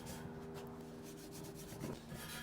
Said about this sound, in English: Scrub it.